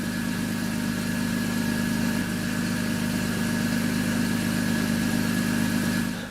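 A combustion engine runs at a steady idle, giving an even, continuous mechanical hum with a low drone that holds a constant level throughout, heard alone without any voices.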